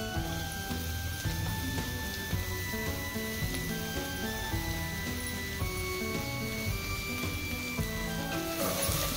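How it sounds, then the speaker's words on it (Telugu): Chopped ridge gourd pieces tipped into a pan of fried onions sizzle loudly and steadily, a dense continuous frying hiss with no talking, the sizzle briefly brightening near the end. "ముందుగా కట్ చేసి ఉంచుకున్న బీరకాయ ముక్కలు అందులో వేసుకుంటున్నాను నేను"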